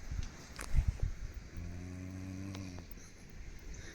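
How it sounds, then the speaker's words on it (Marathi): A man snoring on an overnight trek at Gambhirgad fort gives one low, buzzy, droning snore lasting about a second, fairly close, amid faint outdoor rustle and scattered knocks. "अजून पण घोरतोय, दाखवा एकदा परत."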